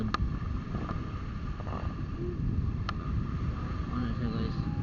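Wind blowing at Santos Beach by the sea, a steady rushing noise buffeting the microphone, with faint background sounds and no clear talk.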